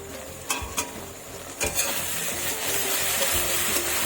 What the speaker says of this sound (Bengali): পেঁয়াজটা যেই না হালকা বাদামি ভাজা হয়েছে তখনই আমি ওর মধ্যে